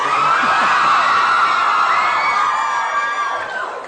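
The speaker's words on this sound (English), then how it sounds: "Thank you for all that screaming." A large concert audience at an awards show screams and cheers loudly and continuously, high-pitched shrieks and whoops rising together before tapering slightly at the end.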